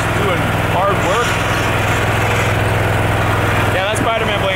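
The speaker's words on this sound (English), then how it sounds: "I get to carry trash on my lawnmower." A riding lawnmower engine used to haul trash around an abandoned resort drones steadily and close by, with a few brief higher chirps rising above the constant hum.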